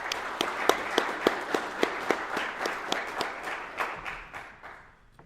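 Audience applause for award recipients at a US Border Patrol class graduation ceremony, a steady wash of many hands clapping with sharp individual claps standing out, sustained and then tapering off toward the end.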